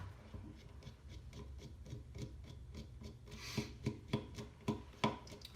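Screws are being removed from the camera of a DJI Phantom 3 drone: a faint, steady scraping rasp followed by a quick series of sharp small ticks from the screwdriver, close up with no talk.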